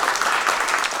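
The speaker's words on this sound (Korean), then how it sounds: "박수 내주시죠." A short, steady burst of audience applause fills the hall at a missional church conference, dense and even from start to finish.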